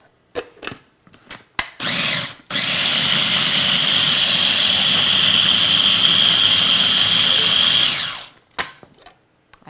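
A blender whirs steadily for about five seconds, spinning a raw ginger mango dressing in a home kitchen. Loud and close, it follows a few short clunks and precedes a brief rattle.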